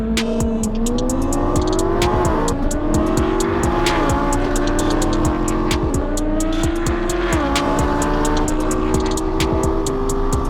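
A Lamborghini accelerates hard on a half-mile racing run. The engine roars loud and close, with the pitch climbing through the gears and short dips at each shift, over a steady dense rumble that never lets up.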